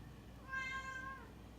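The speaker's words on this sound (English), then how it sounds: "Sorry, don't mind the cat." A house cat lets out a single clear, drawn-out meow close by, heard alone over the low, steady hum of a pedestal fan in the room.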